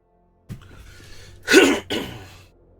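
A single person clears their throat and then coughs twice in quick succession, close and fairly loud, with near silence before and after.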